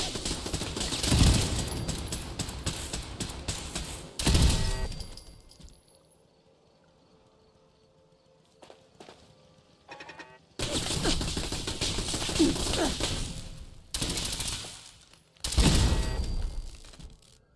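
Turret gunfire in the video game Fallout 4: long, loud, dense automatic bursts broken by a quieter stretch with scattered clinks and small mechanical sounds before heavy firing resumes.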